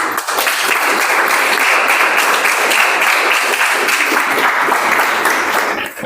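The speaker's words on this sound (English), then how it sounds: "Please give a big round of applause and welcome Anjani" Steady, dense applause from an audience welcoming the second speaker at an Icebreaker Marathon club meeting, loud and sustained for about six seconds with no talking over it.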